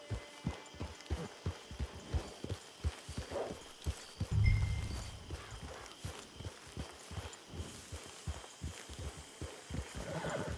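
Horse hooves clip-clop in a steady walking rhythm in the Red Dead Online video game, close and clear, with a short low rumble midway and no talking.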